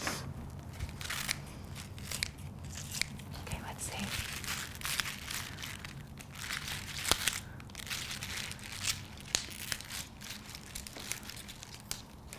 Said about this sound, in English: I'm just gonna trim them a little bit, a good 2 inches. Just using my kitchen scissors.